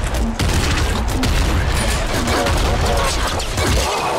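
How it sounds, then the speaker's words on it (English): Grenade-launcher blasts in the pixel-art shooter Nuclear Throne pound in a dense, loud barrage of booms and chaotic crackle with barely a pause. "Grenade launch is awesome"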